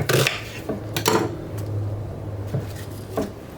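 A knife cuts garnish on a cutting board during no-cook vegetarian meal prep, giving a few sharp, close knocks and clatters of the blade striking the board over a steady low hum.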